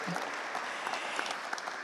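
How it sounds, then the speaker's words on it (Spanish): Short burst of crowd applause for a female athlete who reached the podium, brisk scattered clapping at moderate level with faint crowd noise beneath. "Y también un aplauso, por supuesto, para ella."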